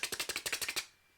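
Crisp double tonguing on a brass instrument with no air flowing through it. About ten short, harsh, clicky pops come in a fast, even burst, close up and fairly quiet, with silence after.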